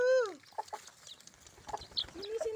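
Chickens cluck in short scattered calls alongside pigeons, close by in a farmyard where corn is husked as feed, with a few brief sharper cries amid light background noise.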